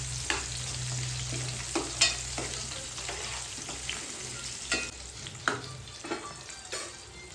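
Garlic fries in oil for a fish pickle, a soft constant sizzle punctuated by a run of irregular scraping clicks as a spoon stirs the pan.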